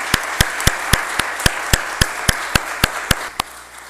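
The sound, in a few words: round of applause for task force members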